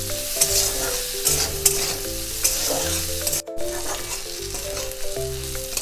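Black pepper chicken frying in a pan as it is stirred, a continuous close sizzle with repeated scraping and clattering of the spoon against the pan, no voices.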